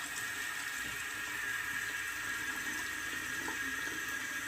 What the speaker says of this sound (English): we'll go ahead and add some water